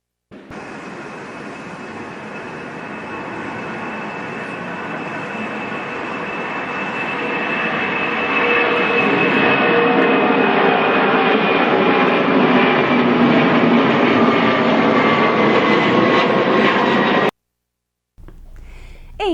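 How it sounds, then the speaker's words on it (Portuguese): Airplane flyover sound effect: a loud, sustained jet-like roar that swells gradually over about fifteen seconds, holds steady, then cuts off abruptly, with no voices. "Nós vamos agora pegar o avião e voltar para o estúdio do Vem Aprender."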